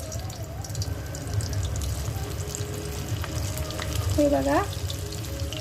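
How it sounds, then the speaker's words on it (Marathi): Colambi fish sizzle and crackle in hot oil over a low gas flame, a steady frying hiss with small pops and a brief clink. Someone speaks briefly over it. "आणि स्लो गॅसवर फ्राय करते"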